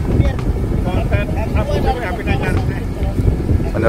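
Steady wind buffets the microphone at the Huyula kite-fighting arena during an Alanggaya Buliya kite contest, a continuous low rumbling roar with a voice talking over it throughout.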